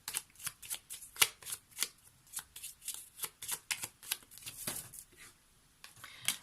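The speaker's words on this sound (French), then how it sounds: "On va prendre une carte complémentaire pour ce personnage." Tarot cards being handled and drawn from a deck, a run of quick, crisp shuffling flicks and slaps in an irregular rhythm, close and clear with no talk over them.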